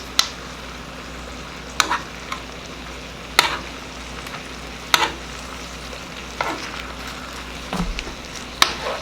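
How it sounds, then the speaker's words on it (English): A steak sizzles in a hot pan while being basted with herb butter, a steady crackling fry broken at regular intervals by sharp spoon scrapes and splashes, with no talking. "And I'm going to start basting it."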